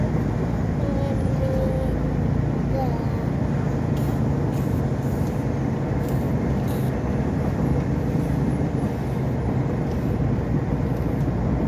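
Steady broadband rumble of a bus travelling on a national highway, heard from inside the cabin, with continuous road and engine noise throughout and faint voices underneath.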